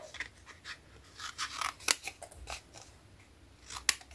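Scissors cut a paper card diagonally, making a series of close, crisp snips and slicing crunches at an uneven pace, with no talking.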